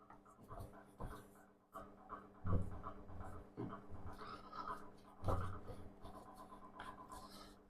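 Chelsea bun bread dough folded by hand in a bowl: soft, sticky slaps and rubbing squishes with a few firmer pats, close and fairly quiet, with no voices.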